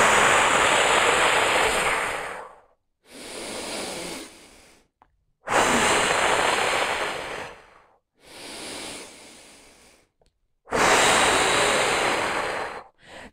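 Forceful breaths pushed out through the mouth as if blowing out a candle during a lung breathing exercise: five long, loud, rushing exhales, close to the microphone, each separated by a brief silence.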